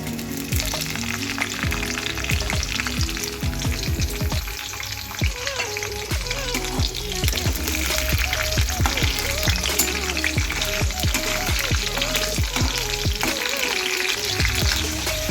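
Green chillies fry with garlic in hot oil in a pan, giving a loud, steady sizzle and crackle with occasional stirring clatter, close and continuous throughout.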